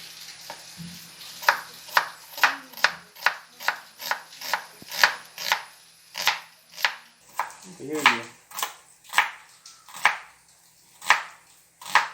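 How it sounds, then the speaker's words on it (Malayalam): Knife chopping onions on a board for Thalassery-style chicken dum biryani, a run of about sixteen crisp, evenly spaced chops, close and clear, with a brief murmur of voice in between. "4 സവാള കട്ട് ചെയ്ത് വെച്ചിട്ടുണ്ട്."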